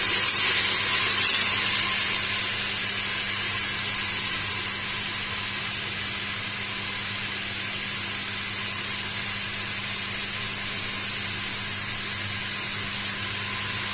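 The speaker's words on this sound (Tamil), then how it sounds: "நல்லா வதங்கட்டும் வெங்காயம்." Onions sautéing in a pan for mutton kulambu, giving a constant loud hiss and sizzle with a steady hum underneath, unbroken and without talk.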